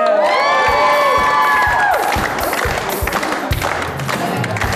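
A studio audience on a dating show greets a woman contestant with loud applause and cheering as bright music fades out, leaving a dense, sustained wash of clapping.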